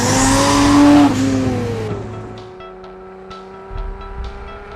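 A Nissan GT-R AMS Alpha 12 roars on the Willow Springs Raceway circuit in California, engine pitch climbing loud and close, then easing off into a lower steady drone as the car pulls away.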